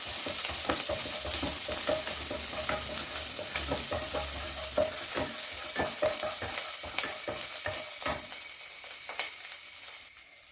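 Crushed ginger and garlic sizzle in hot oil in a pan, a dense continuous frying hiss broken by scattered stirring clicks and scrapes, close up and steady, with no talking.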